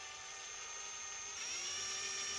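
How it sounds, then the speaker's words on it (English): Electric drill boring a hole with gentle, light pressure during a Honda NH80 Vision scooter restoration, a steady high-pitched whine held throughout and rising slightly in pitch toward the end, close and continuous with no talk. "No pressure on the drill, just let the drill itself drill its own hole."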